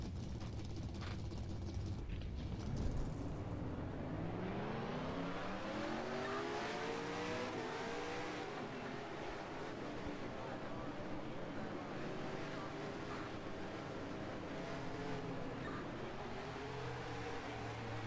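Race car engines roar in a NASCAR-style racing video game, a dense pack of cars revving and climbing in pitch together after the start, with rising and falling engine whines layered over constant road noise and occasional talk.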